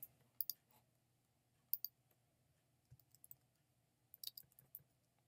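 Quiet computer mouse clicks at a desk, arriving as isolated single and double clicks in small clusters with pauses between them.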